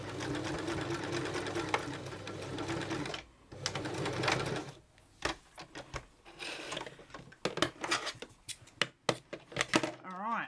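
A sewing machine fitted with a Janome Ultimate Ruffler foot runs in a rapid mechanical chatter while sewing ruffles, then stops and restarts in shorter bursts, with a person talking in between.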